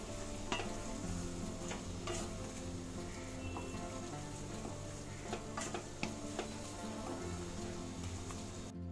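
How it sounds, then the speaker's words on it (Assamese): A spoon stirring banana flower curry with ghee in a pan: soft scraping and clinking over a continuous low sizzle, close and quiet, with no one talking. "এয়া গোটেইখিনি ভালদৰে লৰাই দিলোঁ।"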